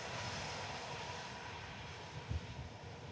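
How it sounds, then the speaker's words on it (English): Saudia Boeing Dreamliner airliner landing at Manchester Airport, with a faint, distant, steady engine rumble and a brief low thud near the end. "Saudia Dreamliner next to land in the classic Saudia colours"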